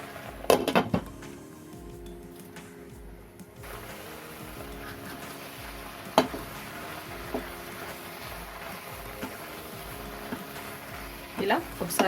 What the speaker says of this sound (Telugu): ఇలా ఒకసారి మనం కలిపి పెట్టుకొని మళ్ళీ మూత పెట్టి ఉడికించుకుందాం